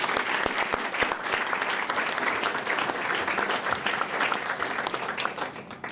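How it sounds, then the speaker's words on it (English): A large audience at NYU Langone medical center applauds the NYU team, loud, dense clapping sustained for several seconds with sharp individual claps standing out near the front. "give them a round of applause"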